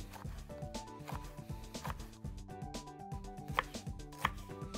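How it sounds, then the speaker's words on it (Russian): Knife chopping half a fennel bulb into small cubes on a board, quick rhythmic close taps in steady succession, quiet and alone. "На счет 2 я очищу овощи и нарежу их мелким кубиком."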